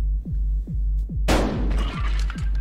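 A shotgun blast rings out in a Russian roulette video game, one loud broadband burst over a steady low hum and repeating throbbing thumps, its noisy tail fading away.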